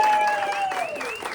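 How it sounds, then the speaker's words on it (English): An audience at an outdoor networking event for a carpet cleaning business gives a burst of applause. The clapping is dense and sustained, and a voice rises above it. "So everybody give them a big clap."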